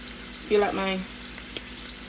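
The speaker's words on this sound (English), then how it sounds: "just putting in the chicken in the pot so it can fry" Chicken pieces sizzle and crackle in hot oil in a pot while brown stew chicken is cooked. The frying is steady and close, with a brief stirring swell and a faint voice over it.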